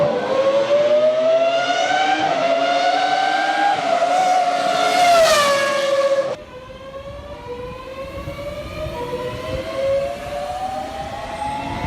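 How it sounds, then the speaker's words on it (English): Rising electric whine of an electric train accelerating in the video game SCR, pitch climbing through steps like gear changes, loud and close, then dropping and climbing again. "when you start moving, it kind of sounds like, you know, an F1 engine"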